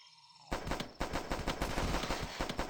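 Rapid automatic gunfire from a powerful gun in the video game The Last Stand, erupting suddenly after a quiet moment and continuing as a loud, dense, sustained burst of shots without talk.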